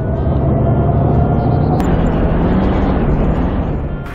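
Loud, steady engine drone of a V3S military truck in the video game DayZ, a continuous low rumble with no break, heard alone without talk.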